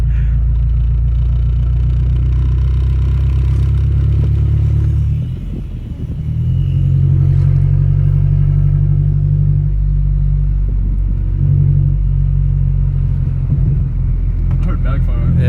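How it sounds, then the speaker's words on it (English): A Mazdaspeed6 with an aftermarket exhaust droning steadily while driving, a loud, close, low rumble that dips briefly and then returns. Occasional faint pops and burbles sit under people talking inside the car. "I heard backfire. Yeah, it's burbling a little bit."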